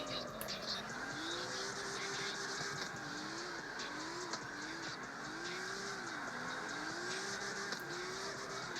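Toyota AE86 drifting in the CarX Street racing game, with a steady engine drone and wavering tire squeal running continuously and loud throughout.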